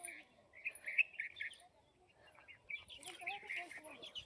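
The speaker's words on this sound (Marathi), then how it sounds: "तर इथं विहिरीवरती चिमण्यांचा किलबिलाट भरपूर असतो" Sparrows at a village well, bursts of high chirping and twittering near and far, with quiet gaps between clusters of calls and someone speaking softly underneath.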